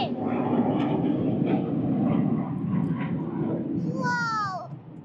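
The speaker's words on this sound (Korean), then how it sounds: "아, 비행기!" At an aerobatic air show in Korea, a fixed-wing aircraft rumbles overhead as a broad, distant engine drone, while excited young children's voices chatter and exclaim close by over it.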